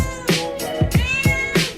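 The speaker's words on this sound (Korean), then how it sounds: "그들은 우리를 어미와 같은 존재로 생각하며 야옹 하고 우는 것이다" A domestic cat meows several times in quick succession, close and fairly loud, each call a short rising-and-falling yowl with clear harmonics, alone without any talking.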